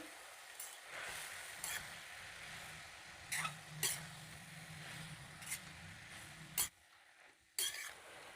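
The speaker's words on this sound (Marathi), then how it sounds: "मेथीची पानं ॲड करून चांगलं मिक्स करून घ्यायची आहे" Fenugreek leaves stirred into vegetables frying in a pan, a quiet low sizzle broken by intermittent scraping and clinking of a spoon against the pan, no voices.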